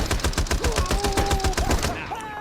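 Rapid automatic gunfire spraying in the shooter game Blitz Brigade, a close, loud burst of evenly spaced shots that stops near the end, with faint background tones and game sounds.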